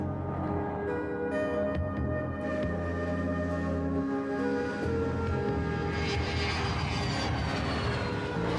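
A private jet's aircraft engine drones steadily and fairly quietly throughout, with a rising whine building toward the end and no voices over it.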